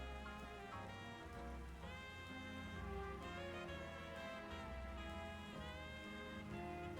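Rain falls in Pokémon Legends Z-A, a steady soft patter heard under layered game music that runs through the whole stretch.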